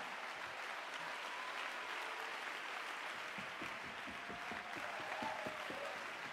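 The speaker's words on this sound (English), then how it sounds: "Somebody clap your hands to Jesus one more time." Church congregation clapping hands together during a sermon, a broad continuous wash of many hands filling the space, with scattered sharper claps and a faint voice rising near the end.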